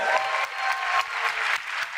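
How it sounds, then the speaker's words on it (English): Audience at a ClickFunnels event giving a round of applause, a brief burst of dense clapping, moderately loud and fairly even. "So give this guy a round of applause"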